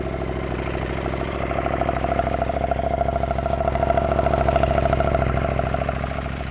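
A modified KTM 890 motorcycle engine with a stock muffler, decat pipe, Rapid Bike tuning computer and Rottweiler intake idles steadily with a close, even throb that swells slightly toward the end.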